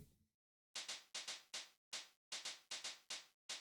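Resampled snare ghost note pitched down slightly, fired in a quick, uneven run of about a dozen short, crisp, bright hits after a brief lead-in, quiet and with no voice.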